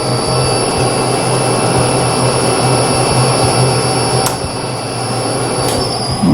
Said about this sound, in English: we're just going to let it take a scratch pass